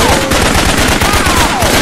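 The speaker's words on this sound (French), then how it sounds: "On me tire dessus!" A short, loud burst of rapid automatic gunfire in the jungle combat game Raven Squad, close-up shots rattling off in quick succession with no pause.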